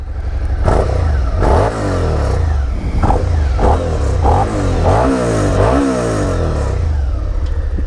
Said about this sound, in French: Le bruit, bah, c'est du bicylindre en V.